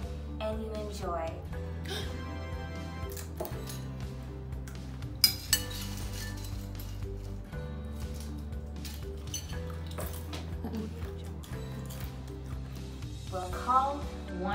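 A spoon scoops food and clinks against a bowl, followed by a sharper knock as the bowl is set down, with light cutlery chinks heard over steady background music.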